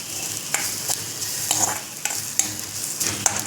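Chopped gobi paratha stuffing with coriander is sautéed and stirred in a pan, a steady sizzle broken by repeated sharp scrapes and taps of the spatula at an uneven rhythm.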